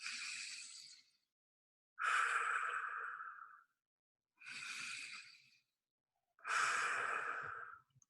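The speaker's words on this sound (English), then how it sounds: "So maybe breathing in." Deep breaths are taken during a guided breathing exercise, four slow airy inhales and exhales in an even rhythm with pauses of silence between, close and fairly soft.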